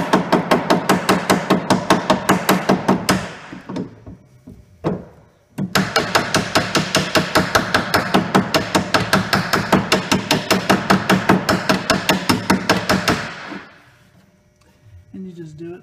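A hammer taps steadily on a rivet to set it, in fast, even, close strikes. The rhythm runs for about three seconds, pauses briefly, then resumes for another seven seconds before stopping.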